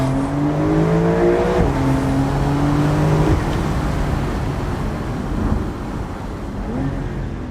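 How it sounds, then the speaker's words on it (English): Porsche 911 Carrera convertible launch-control run: a loud close engine roar climbing through rapid gear shifts, each upshift a sharp pitch drop before rising again, then a broad rushing drone. "Foot on the floor, launch control"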